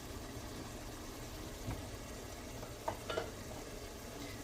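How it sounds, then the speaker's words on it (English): A pot of rice water nears a rolling boil, making a steady close bubbling and hissing rumble throughout with a few slightly louder gurgles and pops, and no talking. "now you see the boil is coming almost to a rolling boil"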